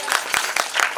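Applause from an audience at a Christmas celebration, a short burst of several clapping swells about a second long, fairly close and moderately loud with no talk over it.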